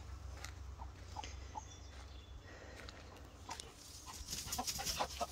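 Chickens cluck softly around a backyard coop on a spring day in Indiana, scattered short calls at a moderate distance over a low outdoor background, growing a little busier toward the end.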